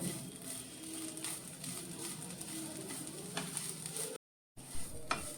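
Dry prawn suke with coconut stirred in a pan over heat, a continuous close sizzle with scraping stirs throughout and a brief break near the end.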